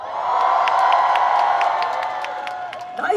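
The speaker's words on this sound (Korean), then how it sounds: "아시는 분들 소리 한번 질러주세요" A concert crowd at an outdoor company event in Gwangju screams and cheers in a sustained loud roar, with sharp whoops and shrieks poking out above the din, heard close and continuous throughout.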